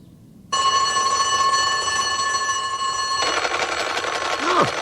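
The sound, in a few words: telephone ringing in a cartoon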